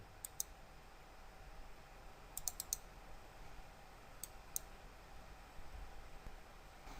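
A computer mouse clicks a few times, crisp faint double clicks around the middle and one more later, over a steady low hiss with no talk.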